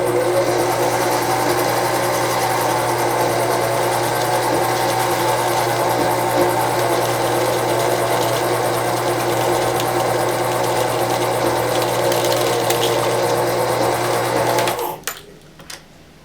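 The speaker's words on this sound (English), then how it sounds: "if you don't have a line winder like we do today" A line winder spools fly line onto a fly reel with a steady, loud mechanical whir and hum that runs unbroken for about fifteen seconds, then winds down abruptly at the end.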